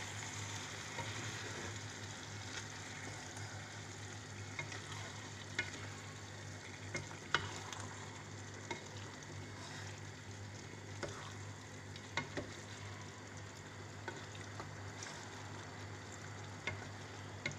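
Tofu in sweet pepper sauce sizzles steadily in a pan while being stirred slowly, with faint scrapes and clicks of the utensil over a constant low frying hiss and hum.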